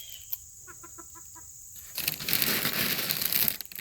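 A rooster pecking at Captain Crunch cereal: a quick series of soft clucks, then a louder stretch of crunching, rustling and scratching at close range, with no voices.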